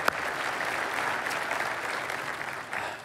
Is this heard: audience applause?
yes